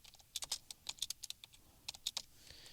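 Fingers tapping quickly on a computer keyboard, a dense run of light clicking keystrokes in uneven bursts, close but quiet, with no speech.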